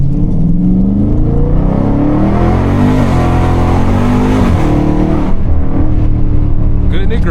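Catless Dodge 392 Scat Pack V8 roaring loudly on an open road, engine pitch climbing and falling through a hard pull with a raspy, droning exhaust from start to finish.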